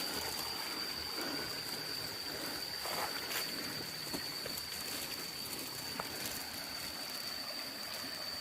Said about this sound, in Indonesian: Sungai ini adalah sungai untuk kehidupan masyarakat sekitar ya teman-teman.